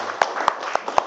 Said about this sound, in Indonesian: Ya, tepuk tangan dulu